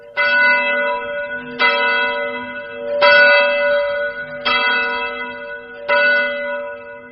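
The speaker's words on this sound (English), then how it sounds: "ring the work bell, calling the employees to the mill" A mill's work bell rings out at a factory in five loud, evenly spaced strokes, each with a bright metallic clang and a long ringing decay before the next strike, with no voices.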